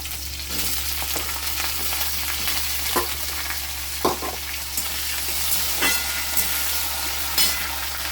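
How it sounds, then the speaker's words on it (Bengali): Cauliflower fries in a wok of hot oil tempered with cumin seeds, dried chillies and bay leaves, sizzling continuously up close. Occasional spatula knocks and stirring scrapes sit over a low steady hum. "এবারে ফুলকপিগুলো এতে দিয়ে দেবো।"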